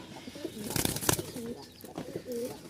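Male pigeon cooing nearby, a few soft throaty coos separated by short gaps, with a brief burst of wing flapping in the middle.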